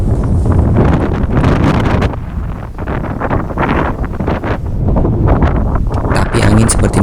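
Strong gusting wind buffets the microphone on the slopes of Mount Sumbing, a loud continuous roar that swells and eases with the gusts.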